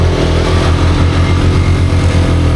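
A motorcycle engine pulling in gear on a steep uphill ride from Boga Lake toward Keokradong, a loud, steady, close-up drone with a low pulsing throb throughout.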